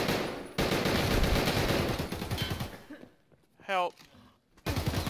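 Gunfire in the shooter game Escape From Tarkov, a dense stretch of rapid shots that fills the first half, then stops abruptly; a voice calls out briefly and the firing resumes at the end.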